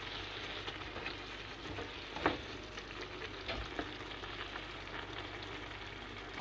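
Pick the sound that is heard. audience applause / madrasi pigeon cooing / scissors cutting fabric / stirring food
stirring food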